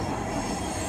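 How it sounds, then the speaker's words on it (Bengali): A Dhaka Metro Rail train passes outside while the metro carriage is moving, giving a continuous loud roar of rails and wheels with a high, steady squeal throughout. "দেখতে পাচ্ছেন বাইরে দিয়ে আর একটা ট্রেন আমাদের ক্রস করলো।"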